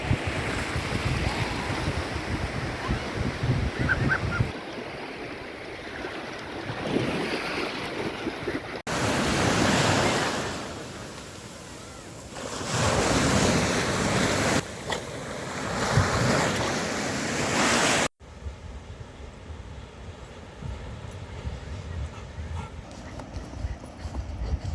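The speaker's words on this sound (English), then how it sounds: "Welcome to the British summer at the seaside." Sea waves wash onto a British seaside beach in summer, a steady loud roar of surf with wind buffeting the microphone, broken into several recorded segments, no talking.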